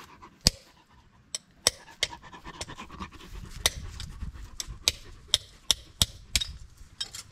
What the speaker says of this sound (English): All right, I'm knocking this seal in.